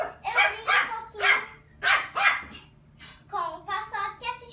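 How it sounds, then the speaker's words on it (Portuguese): A small dog barks indoors in a run of yips and barks, loud and close, with higher whining barks toward the end over a steady low hum. "Ai, cachorrinho"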